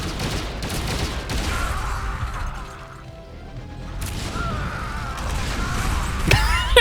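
Dense bursts of gunfire and weapon clatter in a real-time strategy battle, with Olympian units charging a defensive wall. A sustained loud barrage eases briefly in the middle, then swells again and ends in sharp crashing impacts.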